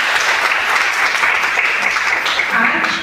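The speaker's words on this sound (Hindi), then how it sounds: "एक बार आपके लिए जोरदार तालियां हो जाए।" An audience at a school event for women claps loudly and steadily in a dense, continuous burst of applause from start to finish.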